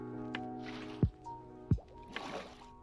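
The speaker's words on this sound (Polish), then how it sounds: "Następnie tutaj, gdzie daliśmy płytę, wylewamy stąd wodę." Water poured out in Minecraft to fill gaps beside a slab while building a modern house, heard as two short splashy gurgles with soft trickling between and after, quiet with background music tones.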